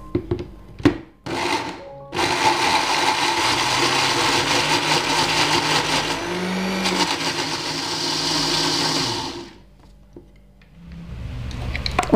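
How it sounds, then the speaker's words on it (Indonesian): A blender grinds turmeric into a spice paste with cooking oil, a loud steady whirring churn that runs for about eight seconds after a few knocks and then winds down, with no talking. "Kemudian kita blender sampai halus."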